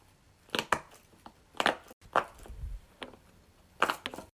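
Silicone guitar-shaped Poppet fidget toy being pressed, giving sharp separate pops in small irregular clusters, loud and close with no voices.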